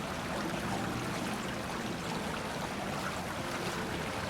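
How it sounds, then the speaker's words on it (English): A brook runs under a bridge below a steep hill beside water pollution control buildings, flowing south toward a cove; a steady, broadband rushing wash of moving water continues evenly throughout with no voices. "The brook under the bridge runs down from the side of the water pollution control buildings"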